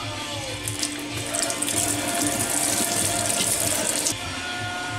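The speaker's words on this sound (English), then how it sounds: "now grab three spring onions. Give them a quick wash." Spring onions are rinsed under a running kitchen tap, a steady close splash of water that grows louder and fuller for a few seconds as they pass through the stream, then drops back to a softer flow.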